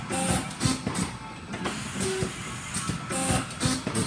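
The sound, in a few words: bag conveyor running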